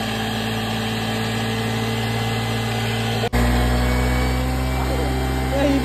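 A vehicle engine runs steadily near a monsoon campsite by a dam, a constant close hum with a strong low drone; after a brief cut it continues at a slightly deeper pitch.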